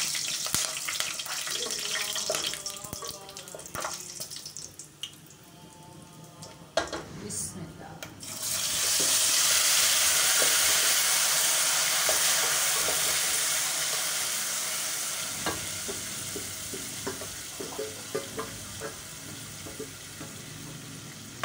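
Masala sizzles and fries in hot oil while being stirred, with scraping stir strokes early on, then a loud sustained hiss of frying that gradually eases.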